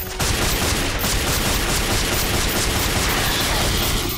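Shooting in the video game Chaos Legion produces dense, rapid gunfire that rattles on without pause, loud and close throughout.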